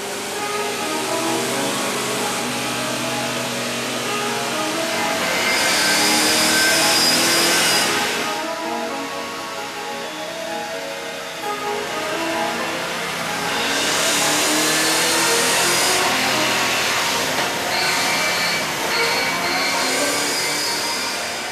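Stock Car Brasil race car engine held on a chassis dynamometer, a loud, steady, close roar that swells in two long sustained revving surges with a brief dip between them.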